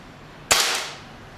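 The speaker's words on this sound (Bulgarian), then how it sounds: "Втори изстрел" One sharp, loud crack from a Gamut CFR IGT 5.5 mm air rifle fired during a chronograph test, then a quick fading tail into faint background hiss.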